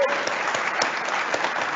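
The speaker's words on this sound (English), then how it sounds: "Big round of applause for Martin." A big round of audience applause for Martin at a brand launch event, brief dense clapping from a crowd, steady and fairly close.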